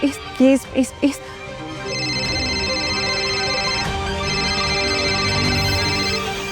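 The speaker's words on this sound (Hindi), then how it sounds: "फोन उठाओ बिंदी, फोन उठाओ" A phone ringtone plays steadily, a repeating electronic melody that follows a few short bursts of sound at the start.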